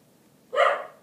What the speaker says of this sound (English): there was a dog barking outside the door